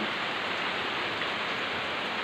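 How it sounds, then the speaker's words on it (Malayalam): Heavy rain falls outdoors as a dense, even hiss that stays constant and fairly loud throughout, with no voices over it. "നല്ല മഴയാണ്, ഞാൻ കാണിച്ചു തരാം."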